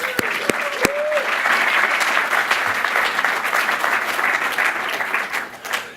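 Enthusiastic applause from a conference crowd celebrating Plone's 15th birthday, steady and sustained for several seconds, with a few cheers at the start before it slowly tapers off.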